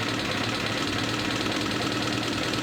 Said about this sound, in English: Backfiring a little bit.